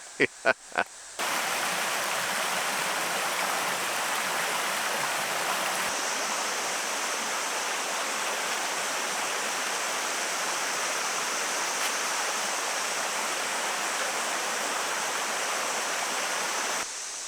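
Creek flowing in a pine forest, a loud, steady close rush of water that continues unbroken after three sharp knocks at the very start.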